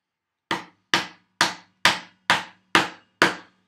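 Seven evenly spaced, sharp mallet-driven chisel blows chopping a mortise in wood, close and crisp, each strike ringing briefly before the next.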